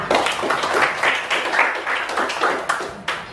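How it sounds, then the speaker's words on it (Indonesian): A small group of students claps in a classroom, with quick uneven bursts of hand claps that swell and fade over a few seconds. "Tepuk tangan untuk kalian semua"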